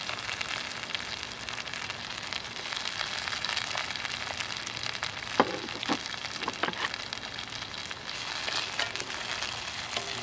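A ripe tomato fries in a pan on a Stoveaway camping stove, giving a steady close crackling sizzle with a few sharper pops near the middle and no talk.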